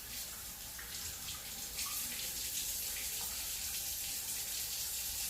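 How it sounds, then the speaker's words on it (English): Tap water runs steadily into a sink while homemade butter is rinsed and squeezed beneath it, a close, continuous hiss and splash, with no talk. "while I'm rinsing it, I'm going ahead and squeezing it to try to get out as much of that buttermilk that's in there as I can"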